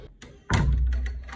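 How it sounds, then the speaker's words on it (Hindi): A home door in a Dubai residence is shut with a sudden solid thunk, followed by a low rumbling resonance and faint taps, fairly close and loud, with no talking. "बंद करो दरवाजा।"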